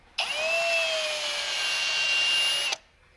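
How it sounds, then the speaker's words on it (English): A power tool whirs in one continuous high-pitched burst of about two and a half seconds, deburring a hole in a part for a Chevy inline six with a roller cam, starting and stopping abruptly. "Just a little deburring on the hole"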